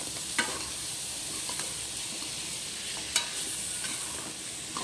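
Carrot and coconut fry is stirred in a hot pan, a steady close sizzle with a couple of sharp spatula scrapes against the metal, and no voices.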